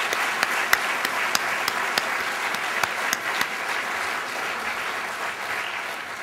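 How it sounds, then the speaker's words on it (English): Steady audience applause for ten entrepreneur award finalists at a business awards event, a moderately loud bed of clapping with a few sharp individual claps standing out near the start, gradually thinning toward the end. "let's give all 10 a round of applause."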